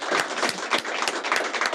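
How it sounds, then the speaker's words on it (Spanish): Studio audience at a Spanish-language talk show applauds a guest, a dense, steady wash of many hands clapping close and fairly loud for under two seconds, with no talk over it. "Damos un aplauso, todo cariño y corazón a Loreta Valle."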